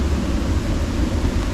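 Heavy thunderstorm rain pounds steadily on a camping tarp, a dense, continuous low roar with no breaks throughout.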